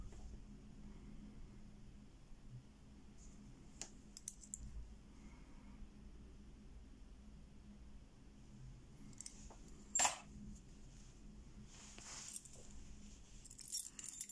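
Lockwood keys clink softly as they are handled, with sparse light metallic taps and one sharper jingle midway, close and quiet with no talking.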